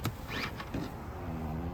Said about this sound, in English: So power third row folding seat, and it does lay flat.